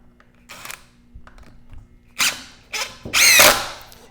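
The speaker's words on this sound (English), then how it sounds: "drive our 2 screws in" A cordless drill drives two screws into cheap lumber for a wooden Christmas tree, several short loud whirring bursts with brief pauses between them.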